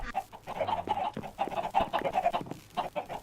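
Several video game chickens on a chicken farm cluck in quick, uneven bursts, close by and fairly loud, with short pauses between the clucks and no talking.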